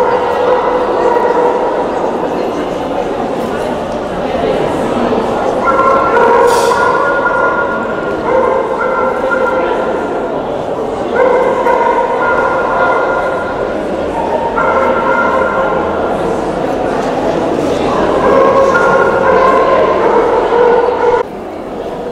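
Dogs bark and yip repeatedly in the ring at an English Setter show, the barks loud and near over the hall's murmur, with people talking throughout.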